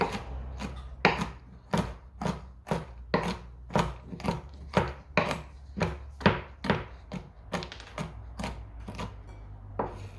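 Cashews being chopped into small and medium pieces with a knife on a board for an Asian salad, a steady run of sharp, close knife strikes roughly twice a second, no talking.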